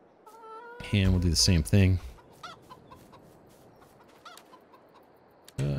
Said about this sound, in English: Five roosters, sure. And then these little baby ones